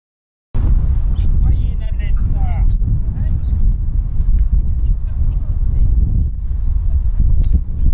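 Horse hooves clip-clop steadily and loudly at a Norwegian trotting track, Nossum Travpark, in an even rhythmic beat that keeps going throughout the clip, with voices of people talking mixed in.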